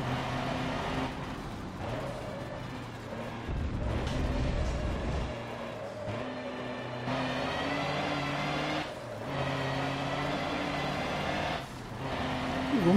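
A racing truck engine in Forza Motorsport 7 drones steadily at close range, rising and falling as it revs and shifts through gears, alone without talking.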